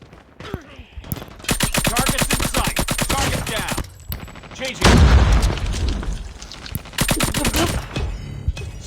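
Loud in-game gunfire from a first-person shooter, with rapid automatic bursts and a heavy explosion boom in the middle, followed by more rattling shots; someone talks over parts of it.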